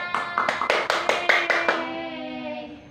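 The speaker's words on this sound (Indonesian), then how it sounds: "Hebat, tepuk tangan." A class claps in a quick rhythmic pattern of roughly eight evenly spaced claps, followed by a lingering ringing tone that fades out.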